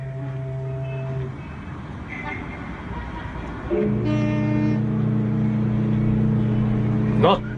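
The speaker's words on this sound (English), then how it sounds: "the traffic will die away" Busy city street traffic in a radio drama: engines rumble and idle while car horns toot, a long sustained horn blast swells louder midway, with occasional beeps over steady roadway noise.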